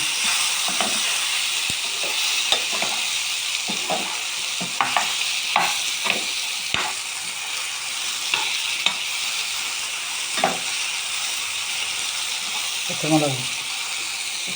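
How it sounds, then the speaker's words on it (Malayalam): Onion, tomato, ginger and garlic sauté in a pan for crab curry, a steady close sizzle broken by repeated spoon scrapes and knocks against the pan, with a voice talking faintly at times. "സവോള തക്കാളി ഇഞ്ചി വെളുത്തുള്ളി ഒക്കെ കൂടെ വഴറ്റിയാണ്."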